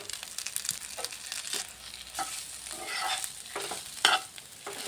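Grated potatoes tossed with turmeric, chilli and cumin powder in a hot pan, giving a steady close scrape of stirring over a soft sizzle, with a sharper clatter near the end and no voices.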